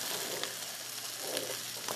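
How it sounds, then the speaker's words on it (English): Hot stock hitting a pan of butternut squash and onions for soup sizzles in a steady, fairly quiet hiss, close up and continuous, with no talking. "You can hear the sizzle"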